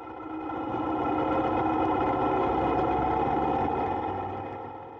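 A 2023 Honda Africa Twin Adventure Sport motorcycle engine hums steadily while riding a small road with rough pavement, a continuous mid-pitched drone that swells in and fades out, with no voices.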